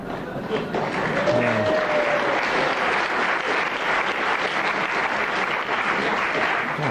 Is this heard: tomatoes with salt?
no